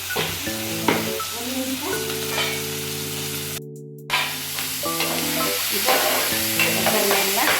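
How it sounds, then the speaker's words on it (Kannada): Tempering for a traditional village-style taro leaf (kesuvina soppu) chutney sizzles loudly in a pan, with spatula scrapes and steady frying crackle throughout and a brief dip midway; a sustained tonal hum runs underneath. "ಒಗ್ಗರಣೆಲ್ಲ ಚೆನ್ನಾಗಿ ಕಾಯ್ದಿದೆ."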